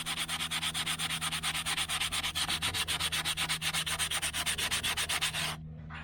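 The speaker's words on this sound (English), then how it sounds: "It's got a piece of 80 grit here, and when you sand it, that top layer is going to come off." Hand sanding a flaking plastic interior part from a 1976 Camaro with 80 grit sandpaper: rapid, steady back-and-forth scratchy strokes, close and continuous, stopping near the end.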